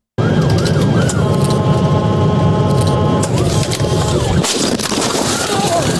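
An emergency vehicle siren wails in rising and falling sweeps over loud traffic and engine noise, close by and sustained.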